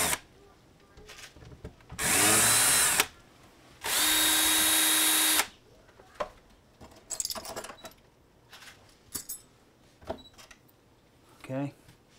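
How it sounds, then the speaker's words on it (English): Cordless power drill unscrewing screws from a door, two sustained bursts of whirring a couple of seconds each, loud and close, followed by scattered clicks and handling noises with a voice speaking briefly between. "So what you gotta do is do a little unscrewing."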